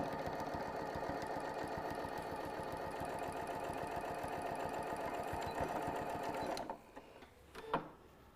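A sewing machine backstitches across the edge of a fabric pouch, running in a fast, steady rhythm close by before stopping, followed by a few quiet handling clicks.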